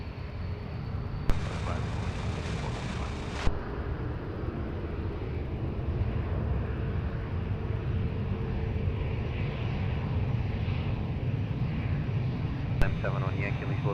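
A jet airliner takes off from runway 20 at Lisbon Airport, its engines a steady broad roar held for the whole stretch, with brief bursts of radio voices cutting in.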